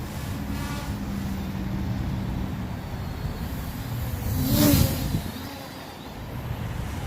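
MJX Bugs 8 quadcopter drone flying a full pitch funnel outdoors, its motors whirring over a wind-like rush that swells to a brief loud peak midway, then settles back.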